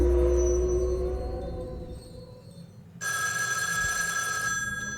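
A telephone rings in the video game Shivers II, a bright steady electronic ring that starts abruptly after a low ambient hum and a brief lull, loud and close with no voices.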